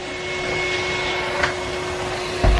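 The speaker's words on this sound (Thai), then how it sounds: "รู้ว่าผัวชอบทำงานบ้านดังนั้นเมียก็เลยซื้อ อีเครื่องดูดฝุ่นให้เลยค่ะ" A Henry vacuum cleaner runs nearby with a steady motor hum and airy whine, holding constant apart from a couple of brief bumps.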